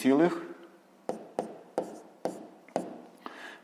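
Pen strokes scratch on paper while numbers are written out by hand during a fifth-grade maths exercise: a longer scrape, then about six short, evenly spaced strokes, close and fairly quiet, with a voice speaking at the very start.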